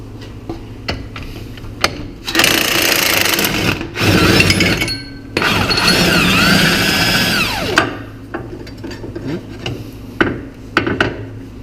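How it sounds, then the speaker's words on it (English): Tools working loose the track bar bolt on a 2020 Jeep Wrangler JL Rubicon during a lift install: bursts of loud power-tool whirring alternate with metallic clanks and taps, close and without talk. "Remove the track bar bolt."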